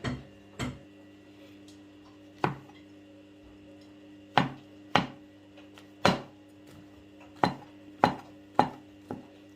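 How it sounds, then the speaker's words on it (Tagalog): A mushroom is sliced with a knife on a cutting board, giving sharp separate taps at an uneven pace, about a dozen cuts, close and clear against a quiet background hum. "Ito yung mushroom natin guys, hiwain natin."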